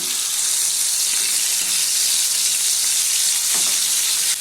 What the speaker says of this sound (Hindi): मटन को हाई फ्लेम पे 5 से 6 मिनट तक मिक्स कर लेना है।